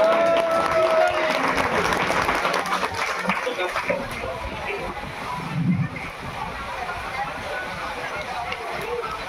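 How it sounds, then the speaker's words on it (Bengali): Crowd applause at a Durga Puja gathering in Santosh Mitra Square, Kolkata, a broad sustained clatter of many hands, fading somewhat midway with a brief voice and background murmur. "একবার জোরে করতালি দিন"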